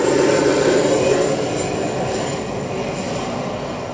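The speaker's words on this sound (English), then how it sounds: "Oh, it's not the crazy people plane, actually. I was wrong. It's our Beechcraft." A Beechcraft aircraft at Gold Coast Airport, heard as a steady, fairly loud engine drone with a faint high whine running through it, holding constant throughout.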